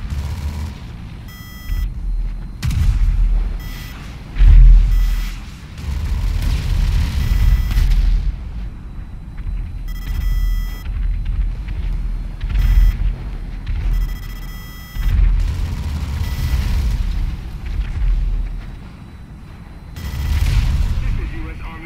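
The B-11 cannon in the Rockstar video game fires in repeated booming bursts with short pauses between volleys, loud and close.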